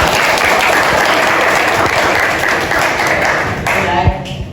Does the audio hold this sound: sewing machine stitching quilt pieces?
no